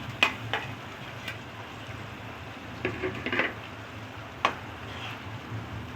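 Fried pointed gourd koftas dropped into a simmering gravy in a pan, a steady close sizzle with a few sharp clinks and soft thuds as the pieces go in, no talking.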